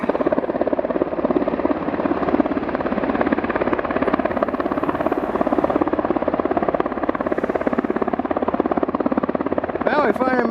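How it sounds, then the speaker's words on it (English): A Coast Guard helicopter circles low over muskeg near Sitka, Alaska, its rotor producing a loud, continuous rapid chopping throb that stays close and steady throughout the stretch. "Coast Guard helicopter practicing"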